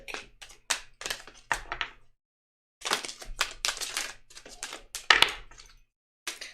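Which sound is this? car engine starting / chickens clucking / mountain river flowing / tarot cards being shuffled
tarot cards being shuffled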